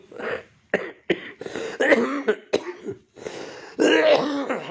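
A person suffering from a cough and cold coughs and clears their throat, several short harsh bursts separated by pauses, then a longer rough cough near the end; close and loud.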